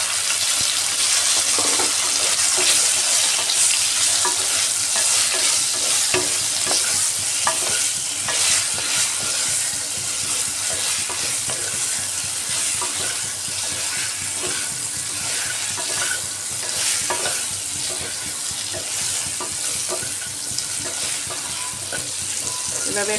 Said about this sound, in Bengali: লবণ দিয়ে আর সামান্য একটু হলুদ দিয়ে আস্ত ভেন্ডিগুলো ফ্রাই করে নিচ্ছি।